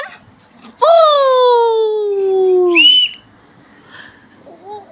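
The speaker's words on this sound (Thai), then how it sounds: "แม่เลยตามเสียงนกหวีดมาเนี่ย" A single loud whistle blast holding a long, slightly falling tone for about two seconds, followed by a brief higher chirp and then quiet.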